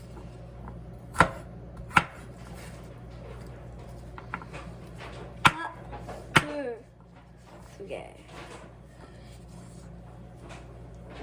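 A few sharp, isolated knife chops strike a board, spaced irregularly over faint background hum and kitchen noise.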